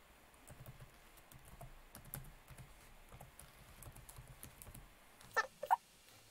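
Soft keystrokes patter on a computer keyboard as a Linux install command is typed, with quiet, irregular taps followed by two sharper key presses near the end.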